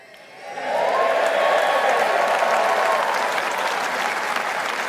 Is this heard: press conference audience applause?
yes